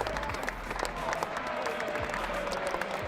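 A rugby crowd at the Stoop applauds a try scorer during a Gordon's versus Hayes match: a broad, continuous wash of clapping from a large, distant crowd with no pause.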